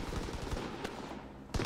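Dense gunfire in Call of Duty: WWII, a chattering burst of rapid shots under a busy battle mix, then one louder sharp report close by at the very end.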